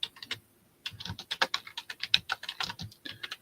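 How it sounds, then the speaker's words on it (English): Computer keyboard typed on in quick irregular bursts of crisp close clicks, after a brief pause, with no talking. "So let me type this in"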